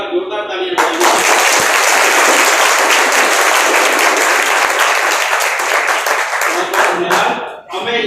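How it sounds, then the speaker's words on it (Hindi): Loud, sustained audience applause at a Hindi kavi sammelan poetry recital in Nalanda, a dense wall of clapping that swells in after a second and rolls on for about seven seconds before thinning out at the end. "एक बार जोरदार तालियां बजाइए।"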